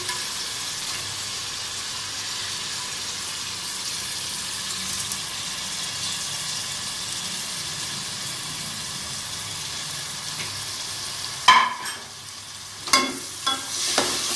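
Spices frying in tamarind pulp in a pan, a steady sizzle under continuous stirring, then a few sharp scraping clatters of the spoon against the pan near the end.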